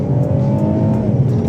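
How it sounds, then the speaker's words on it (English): 2009 Alfa Romeo 159 JTS engine revving loud and close, a sustained throaty drone with rising tone and no talk. "I did not think that I would like an Alfa Romeo of all things, but honestly, just listen to it. The engine sounds fantastic."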